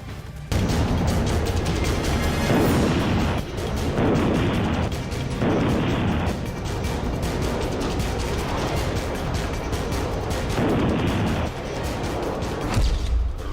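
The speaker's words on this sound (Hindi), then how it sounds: "रॉकेट लॉन्चर और तोप से हमले की ट्रेनिंग," Russian military training with rocket launchers and cannons: a long, loud, dense run of repeated heavy booms and bursts, rolling one after another with barely any gap, close and powerful.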